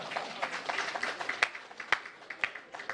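An audience at a Habitat Fair gathering claps steadily for about three seconds, producing dense, even applause with a few sharper individual claps standing out, and no one speaking over it.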